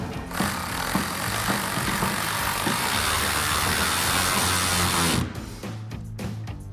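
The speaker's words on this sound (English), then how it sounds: "grab our T15 Torx bit, tighten this down" A T15 Torx screw is driven into a matte black fender flare on a 2014-2018 Chevrolet Silverado 1500, a loud continuous whirring ratchet-like buzz for about five seconds, then stopping, with softer mechanical clicks after.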